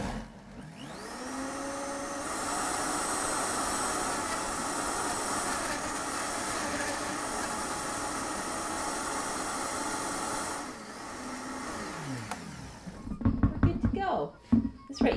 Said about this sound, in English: I'm gonna fire up the Vitamix.